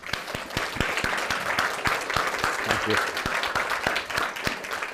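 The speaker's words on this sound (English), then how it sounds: "And I think maybe a wee round of applause for them would be very, very nice." An audience claps for a production team in a lively round of applause, with many sharp individual claps over a dense wash of clapping. A voice briefly speaks over it.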